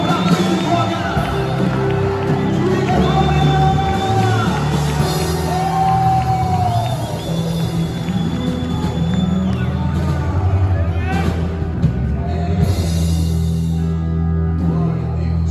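A church congregation shouts a loud cry of victory during worship, with many voices yelling and whooping together in a sustained, echoing roar and individual shouts rising above the crowd.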